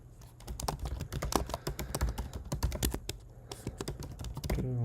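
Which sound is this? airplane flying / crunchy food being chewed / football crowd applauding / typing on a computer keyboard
typing on a computer keyboard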